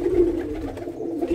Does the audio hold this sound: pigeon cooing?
yes